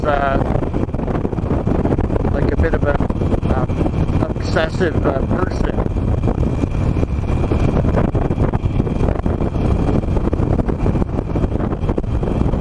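Wind roars steadily and loudly against the microphone while riding a 17-year-old Harley-Davidson Nightster motorcycle, with someone talking over the continuous rushing noise.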